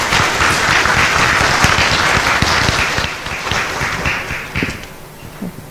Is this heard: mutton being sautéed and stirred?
no